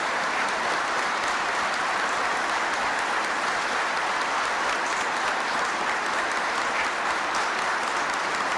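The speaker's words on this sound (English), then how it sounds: "I know that applause is for all World War I veterans." Sustained applause from a large audience at a Veterans Day address, a dense, even roar of clapping that holds steady at moderate distance for the whole stretch.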